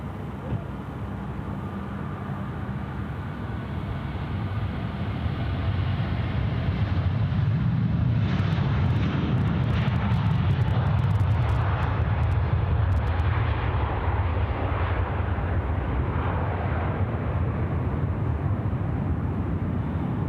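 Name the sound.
airplane at Sydney Airport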